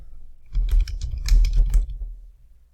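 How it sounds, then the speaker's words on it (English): Typing on a computer keyboard while entering a clothing-store search term, a quick run of close, crisp key clicks lasting about a second and a half, with no talking. "so I'm just going to type that in"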